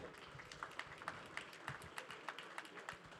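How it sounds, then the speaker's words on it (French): An audience at a French conference on artificial intelligence claps after a talk, giving faint, fairly sparse applause with individual claps audible throughout. "Je pense qu'on peut tous les applaudir"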